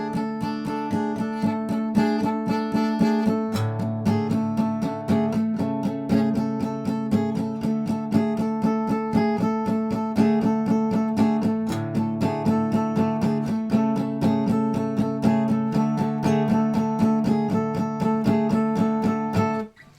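Acoustic guitar plays the sixth chapter of a piece, a steady stream of plucked, ringing notes with sustained bass tones, played solo and close for the full length before stopping abruptly.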